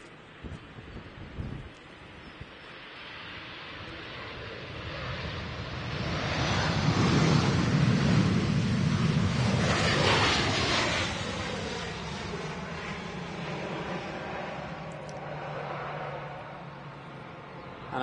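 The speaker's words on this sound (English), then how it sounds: "Wowzers, the wind." Strong wind buffets the microphone at an airport runway, a broad rushing roar that builds to a loud peak in the middle and then eases off, with a few sharp gusts early on.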